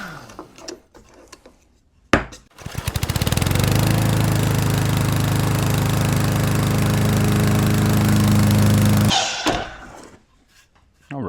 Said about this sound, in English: So over here at the miter saw, I'm just going to cut a little 10-degree taper going back.